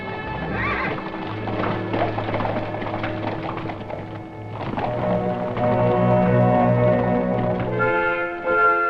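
Horses being ridden in an old Western setting, with steady clip-clop hoofbeats and a whinny, loud and close, over a constant background bed with no talk.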